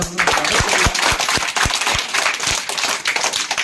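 A crowd at a school supplies distribution event claps steadily, sharp overlapping hand claps in a lively rhythm, loud and close, with no talking over them.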